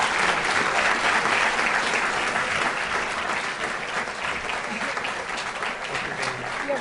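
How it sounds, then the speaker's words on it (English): A dinner audience applauds for the YMCA, dense even clapping from a large crowd, loud and sustained for several seconds before easing slightly toward the end. "I'd like for everyone to give a round of applause to Tom Capriva and the Hollidaysburg YMCA."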